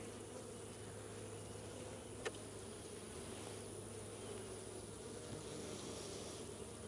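Honeybees buzz steadily in an open hive during an inspection of frames holding honey and brood, a soft, constant drone with one brief tick partway through.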